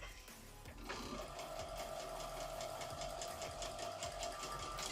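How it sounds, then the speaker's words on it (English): A sewing machine labors through bulky quilt seams, its needle chattering in a fast, even rhythm with a steady motor whine, fairly quiet and with no talking. "some of these seams are a little bulky, so my machine is struggling just a little bit"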